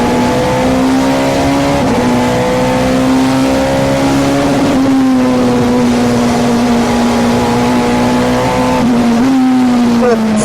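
A Nissan super touring race car roars on track, its engine loud and close as it climbs through the revs, dipping briefly at each gear change before pulling again.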